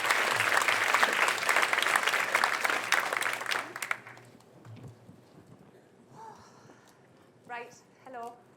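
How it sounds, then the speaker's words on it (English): A keynote audience at a conference applauds loudly for about four seconds. The clapping then fades quickly, and a voice speaks briefly in the quieter remainder. "So we're going to have a big round of applause for Sarah Dixon-Jones."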